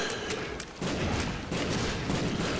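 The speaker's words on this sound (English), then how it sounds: "who's dropping bombs?" Bombs going off in The Binding of Isaac Afterbirth, a dense, loud barrage of overlapping blasts and crackling game noise that keeps up throughout, with no voice over it.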